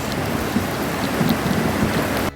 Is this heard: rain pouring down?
yes